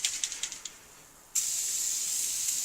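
A can of WD-40 hisses out a long steady spray after a few short ticking clicks, the loud close hiss starting abruptly and holding evenly to the end.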